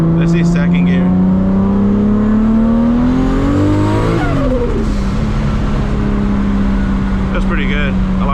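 A 1000+ hp Toyota Supra MK4 accelerates hard in second gear, its engine note rising steadily in pitch, cutting off abruptly, then resuming lower as the car keeps pulling, loud and close with a voice over it.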